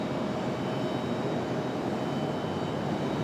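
An airliner departs Raleigh-Durham International Airport, its engines producing a steady, broad roar heard from a distance, with no voices over it.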